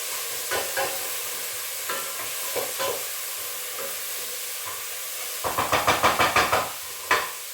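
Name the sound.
garlic sizzling and being stirred in a pan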